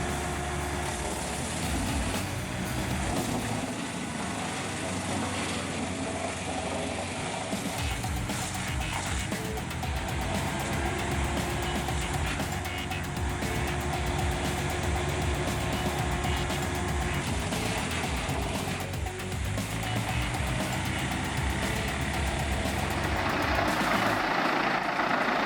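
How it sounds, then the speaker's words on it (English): A Vermeer firewood processor with a 197 horsepower engine chews through logs, a dense continuous industrial roar of engine and machinery with clanks and shifting loads, loud and unbroken throughout. "197 horsepower engine and a jaw-dropping 20-inch in-feed, it chews through logs like nothing else."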